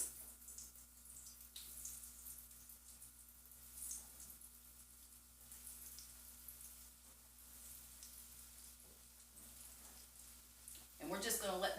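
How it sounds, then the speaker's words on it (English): Goat cheese croquettes deep frying in hot oil, a soft, continuous crackling sizzle with a low hum beneath, swelling into louder bubbling at the very end; a voice speaks over it. "we're just going to let them fry for about 2 or 3 minutes until they're golden brown"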